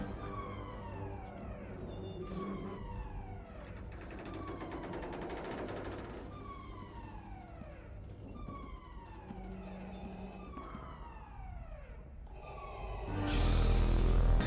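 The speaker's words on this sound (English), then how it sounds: "The use of the siren is haunting." A wailing siren from a Star Wars film scene rises and falls in repeated sweeping cycles over dim rumbling ambience, fairly quiet and steady, before a louder low swell near the end.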